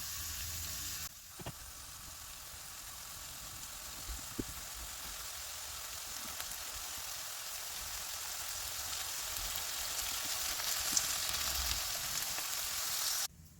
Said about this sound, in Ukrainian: Смажу овочі до м'якості.